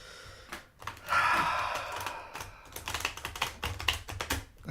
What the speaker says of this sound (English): The sound of the shuffling cards